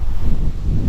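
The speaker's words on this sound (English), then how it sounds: "I apologize for the wind, but it is North Carolina" Strong wind buffets the microphone outdoors in North Carolina with a steady, low rumbling roar, loud and close throughout.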